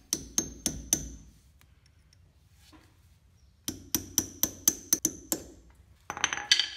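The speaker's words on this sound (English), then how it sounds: "I'm using a small chisel to bend the tab. Just wanna hit it back so it's flat." Metal hammer striking a small chisel to bend a lock-washer tab flat during a Toyota 4x4 solid front axle knuckle rebuild, two bursts of sharp, ringing blows in quick steady rhythm, close and loud, with a pause between.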